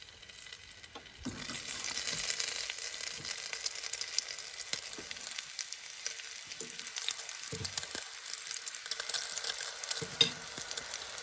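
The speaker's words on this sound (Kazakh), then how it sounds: "Майға салған кезде, міне қараңыздар, май деген осындай шыжғырып тұру керек." KFC-style chicken, coated using two eggs, drops into very hot oil and sizzles steadily, a loud continuous hiss starting after a second and holding throughout, with occasional soft clinks and bubbling pops.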